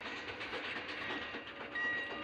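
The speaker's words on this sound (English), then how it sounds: "That's a tiny train." A small steam train runs along the rails in the 1962 western The Man Who Shot Liberty Valance, a faint steady rumble and clatter with a thin whistle tone near the end.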